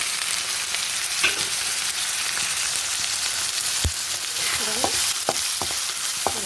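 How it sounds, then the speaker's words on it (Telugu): Tomatoes frying with ginger-garlic paste in a pan, a steady broadband sizzle running throughout, with a few sharp spoon or spatula scrapes and taps from stirring. No talking. "అల్లం వెల్లుల్లి పేస్ట్ ఇలా కొంచెం తక్కువ కలిపితే ఇంకా టమాటాలు కూడా వేసేద్దాము."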